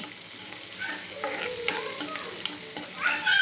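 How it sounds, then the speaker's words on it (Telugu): Vegetables for Maggi noodles fry in a pan with a bright, constant sizzle and repeated stirring clatter of a utensil against the pan, close and moderately loud throughout. "ఇది ఒక టూ మినిట్స్ వేగనిద్దాం"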